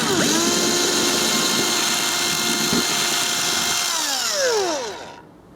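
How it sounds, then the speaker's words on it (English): Power drill boring a small wire hole while installing a model railway point motor, a high steady whine running for several seconds before spinning down and stopping. "So I'm going to drill a small hole for the wire."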